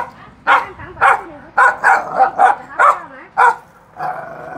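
A dog in a Vietnamese village barks repeatedly at close range, about eight sharp barks in an irregular run with a low growl or whine between them and a final drawn-out yelp.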